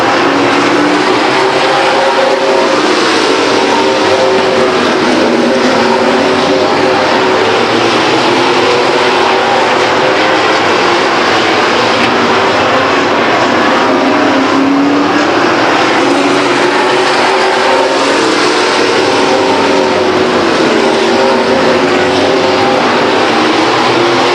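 Race trucks lapping at Stockton 99 Speedway, a continuous loud engine roar from several trucks that swells and fades slightly as they pass, steady throughout.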